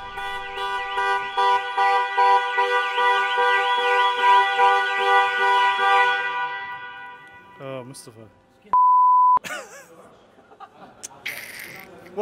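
A car alarm, set off by pressing the hazard button, sounds a loud warbling electronic tone for about six seconds, then stops. Short beeps, a steady tone and people's chatter follow.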